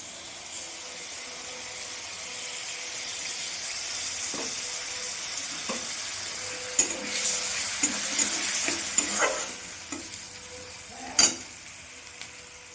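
Mushrooms fry in a pan with ginger, cumin and garlic paste, a soft steady sizzle underneath, then louder stirring scrapes and clatters toward the end.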